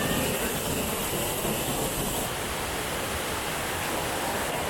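Loud waterfall at Tad Wiman Thip in Bueng Kan, Thailand, a dense, constant roar of falling water heard up close, filling the whole clip evenly without pause or voices.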